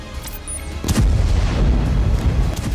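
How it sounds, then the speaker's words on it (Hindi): Rocket explosions over Tel Aviv: a heavy boom erupts after a faint high tone, followed by sustained low rumbling and crackle, loud and distant-sounding in the open city. "तेल अवीव में रॉकेट गिरने से कई धमाके हुए हैं।"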